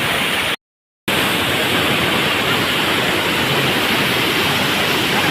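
Tinago waterfall on Biliran Island roars as a loud, steady broadband rush of falling water, continuous and close, briefly cut out once near the start.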